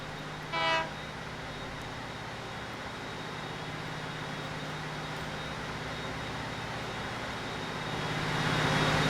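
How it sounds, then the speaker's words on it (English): Train departing in the Transport Fever game: a short horn toot at the start, then a steady low rumble and hum of the moving train that swells slightly toward the end. "should I just unpause it so we can at least see the train come on out?"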